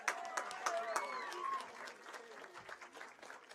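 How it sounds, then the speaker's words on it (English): A crowd at a girls' high school soccer game applauds steadily for the seniors, clapping and cheering, with some voices calling out over it. "let's hear one more round of applause for all of our seniors here tonight"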